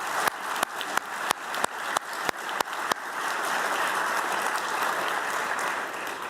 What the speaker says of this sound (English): So please join me for one last round of applause for the 6 winners.